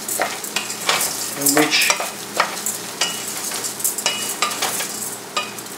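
Rice grains toasting for risotto alla Milanese hiss and sizzle in a hot pan while a spoon scrapes and stirs in quick irregular strokes, close and fairly loud, with a brief spoken word.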